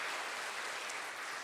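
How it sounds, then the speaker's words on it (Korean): A church congregation applauding together in a brief burst of steady, dense clapping, fairly close and filling the room, with no talk over it. "우리 다 같이 영광의 박수를 올려드리도록 하겠습니다"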